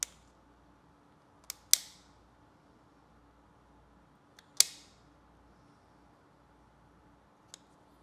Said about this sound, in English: So I can start this one with the trimmer to get the majority of that hollow part off